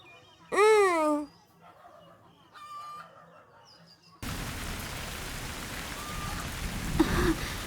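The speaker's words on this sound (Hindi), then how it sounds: "अरे बारिश हो रही है" Steady rain falls from mid-clip onward, a broad hiss that starts abruptly after a rooster crows loudly and a few faint bird chirps sound over quiet background.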